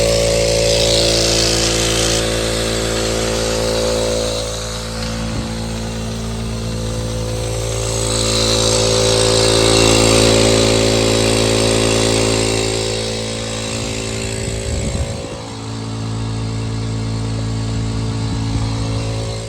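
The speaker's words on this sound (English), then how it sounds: "We can actually plug the compressor up to see if we got a leak really quick." An air compressor running for a plasma cutter setup, a loud continuous motor drone with steady harmonic whine that swells and eases over the stretch, no talk.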